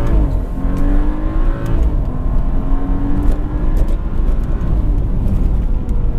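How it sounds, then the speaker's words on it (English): A BMW M4 engine pulls hard at around 70 mph from inside the car, a loud, close drone whose pitch climbs steadily as the car accelerates, with road and wind noise beneath. "You cannot beat the engine sound in this car."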